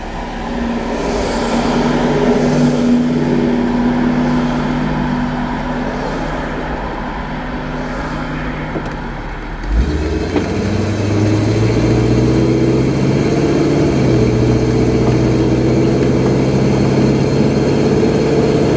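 A small gasoline engine runs steadily after starting, with a continuous mid-range drone that drops briefly, then settles into a fuller, lower idle, with no talking.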